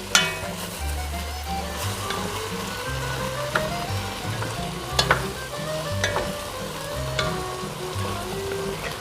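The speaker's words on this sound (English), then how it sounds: "now we're just kind of sauteing the sausages" Sausages and garlic sautéing in a pan, a continuous close sizzle with intermittent scraping and clinks from stirring, alone without speech.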